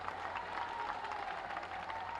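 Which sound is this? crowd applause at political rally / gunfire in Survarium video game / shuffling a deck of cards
crowd applause at political rally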